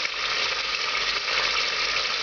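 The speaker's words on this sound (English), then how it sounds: "You're gonna put some of this tomato sauce on the bottom, maybe a third of it, a quarter of it maybe, and just let it cook without stirring it" Tomato sauce cooks untouched in hot oil at the bottom of a pan for a Moldavian braised vegetable sauce, giving a steady, bright sizzle and crackle that holds constant with no voices.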